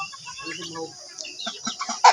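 Several chickens clucking close by in short, irregular bursts, with a louder squawk at the end.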